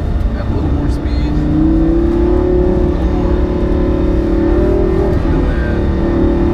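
A Lamborghini engine in sport mode hums and rises steadily as the car gains speed, a loud continuous in-cabin drone with a climbing tone and no break across the clip.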